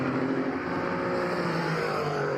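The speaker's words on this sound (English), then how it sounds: "Listen into these LMP3s." LMP3 prototype race cars running at Monza, a steady dense engine roar holding constant and fairly loud throughout, with no voices.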